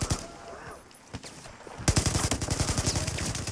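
Rapid automatic gunfire from Battlefield 4 multiplayer, a few scattered shots at first, then a dense burst of fast repeated rounds that grows loud and continuous toward the end.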